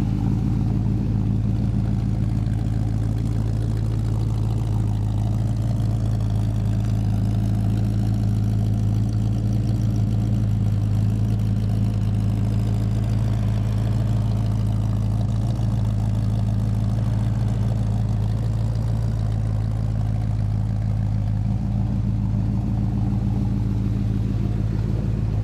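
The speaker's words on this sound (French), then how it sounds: "La voiture est équipée d'un échappement type glass pack. Très très agréable, on l'entend bien ici derrière." A 1970 Ford Torino with a 351 Cleveland V8 and glass pack exhaust idles steadily from behind, a deep, loud, even rumble with a low throb that holds unchanged throughout, no voices.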